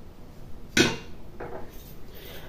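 Rougail sausage sauce stirred in a pot: two or three sharp clinks and scrapes of a utensil against the pot, spaced apart over near silence.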